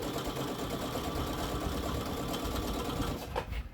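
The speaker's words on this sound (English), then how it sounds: "And then we're going to sew that bottom." A sewing machine stitches the bottom hem of an apron in one continuous, close whirring run with a rapid needle rhythm, then slows and stops near the end, without talk.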